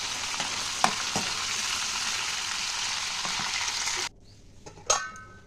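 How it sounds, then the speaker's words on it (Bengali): Prawns fry in hot oil in a wok, a loud continuous close sizzle with a few sharp spatula knocks, then the hiss drops away abruptly and a metallic clink rings out, with no voices. "তো এই দেখো মাছটা ভেজে নেব। তো এই দেখো চিংড়ি মাছ ভাজা হয়ে গেছে।"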